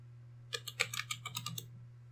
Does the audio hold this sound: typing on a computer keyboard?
yes